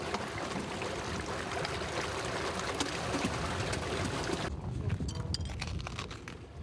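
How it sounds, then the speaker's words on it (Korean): Water runs under thick ice on a frozen river in bitter cold, a steady rushing, trickling flow heard close and fairly loud, with the background dropping quieter near the end. "두꺼운 얼음 아래로 물소리가 들린다"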